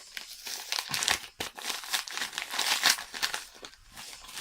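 Bubble wrap packaging from a Fnac parcel holding Blu-ray and DVD discs crinkles and crackles continuously as the parcel is opened. The rustling rises and falls in uneven bursts for several seconds, close up, with no voices.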